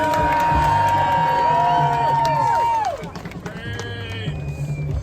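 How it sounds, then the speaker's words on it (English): Lively crowd cheering, whooping and applause for couples in costume at a zombie walk contest, loud and dense with voices mixed in, easing to a quieter murmur partway through. "One more big round of applause for all these couples."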